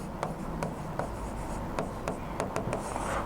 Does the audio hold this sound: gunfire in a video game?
no